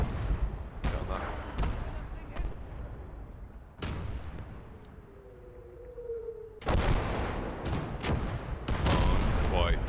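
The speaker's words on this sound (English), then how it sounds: "Can't quite tell where their artillery is." Artillery fire in the World War II video game Call To Arms: Gates Of Hell, a run of heavy booms and bursts, some distant and some closer, with a dense cluster of blasts near the end and voices talking between them.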